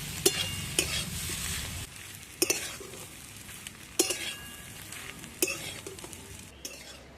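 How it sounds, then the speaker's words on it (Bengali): Spatula scrapes and clinks against a frying pan in several sharp bursts as an onion filling with fenugreek, salt and sugar is stirred for Rajasthani kachori, over a steady oil sizzle that fades after the first couple of seconds. "এই সব কিছু বেশ সুন্দর করে নেড়ে চেড়ে পেঁয়াজের পুরটা তৈরি করে দেবো।"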